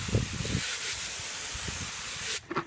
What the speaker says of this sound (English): I'll take my hose and I just spray it off just like